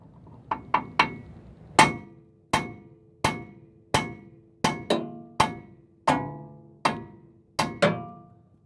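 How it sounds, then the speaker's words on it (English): Sharp metallic hammer blows on a car's steering knuckle to free a tie rod end ring out one after another, about a dozen strikes at a steady pace, each leaving a brief clanging ring. "the way that I remove tie rod ends is just with a hammer"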